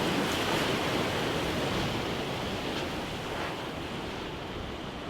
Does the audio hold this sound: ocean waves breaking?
yes